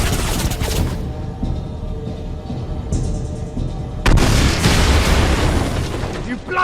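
An Expulso spell explodes in a Harry Potter Deathly Hallows video game battle. Loud booming blasts and crackling bursts sit among shouted voices, with a sharp heavy explosion hitting partway through.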